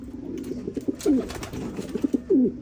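A pigeon coos nearby in soft, low repeated phrases, a couple of rolling coos over faint background noise.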